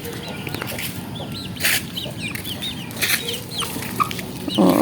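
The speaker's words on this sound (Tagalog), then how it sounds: "Yung aking mga alagang sisiw, eto na din. Iniintay na rin ako." Pet chicks and chickens clucking and peeping close by in a steady chatter, with a few louder calls rising out of the flock.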